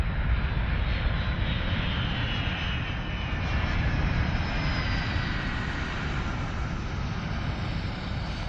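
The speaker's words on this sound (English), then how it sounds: "Gently, the crew eases the huge C-17 to the ground." A huge C-17 jet transport touches down, a steady, loud roar of engines and rushing air holding constant throughout with no talk.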